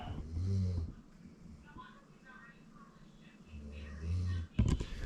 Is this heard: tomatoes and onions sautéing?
no